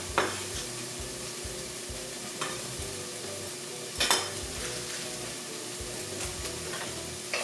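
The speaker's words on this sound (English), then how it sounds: "I'll just stir this onion in the pot" Diced onion stirred in a pot without oil while making vegan mulligatawny soup, a soft steady sizzle under occasional scraping strokes and a few sharp spoon knocks against the pot, no talk.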